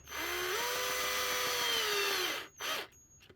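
A power driver runs axle assembly bolts down snug on a DX44 axle assembly: one sustained, close, loud whirring run that rises slightly in pitch, then cuts off, followed by a brief second burst.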